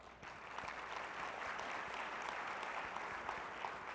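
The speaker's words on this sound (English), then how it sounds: "Please give yourselves a round of applause." Steady applause from a conference audience of school principals, dense even clapping that holds at a constant level throughout, with no voices over it.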